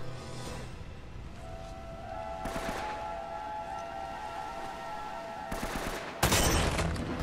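Gunfire in the game Uncharted: Drake's Fortune, with bursts of rapid shots around the middle and a loud blast near the end over a steady game backdrop with a sustained tone.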